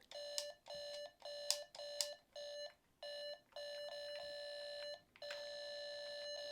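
A Game Boy test cartridge sounds a shrill, ear-piercing electronic beep after the wrong buttons are pressed, repeated in short bursts with brief gaps and then longer sustained tones, with no talking.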